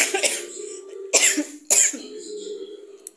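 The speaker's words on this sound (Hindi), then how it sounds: "खांसी अभी ठीक नहीं है।" A woman coughs several times in a row, with short sharp bursts around a second apart, close and fairly loud in an indoor home kitchen setting.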